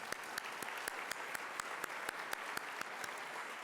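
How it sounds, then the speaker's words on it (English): A round of applause at a reception kick-off event, faint and distant-sounding, with a few sharper individual claps standing out at a regular beat over a soft wash of clapping. "And now let's have a round of applause for Bill Murray"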